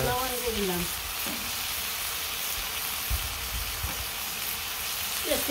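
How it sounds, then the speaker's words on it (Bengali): Fish sizzles steadily in hot oil in a home kitchen, a continuous close frying hiss with brief stirring scrapes and a few faint voice fragments near the start. "মাছের তেলে মাছ ভাজা"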